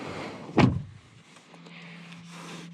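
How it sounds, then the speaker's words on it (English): A 2019 Volvo V60 door shuts with one solid thud from inside the cabin, followed by a quiet interior hum. "Let's go ahead and shut the door."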